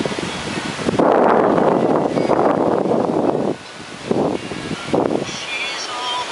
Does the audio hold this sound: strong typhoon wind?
yes